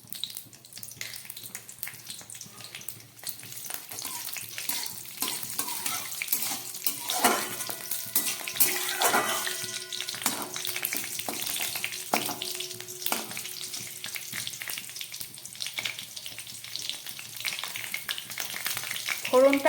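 A bay leaf, dried and fresh green chillies and cumin seeds splutter in hot oil, a steady crackling sizzle with scattered pops and a few utensil knocks in the middle, running on without talk.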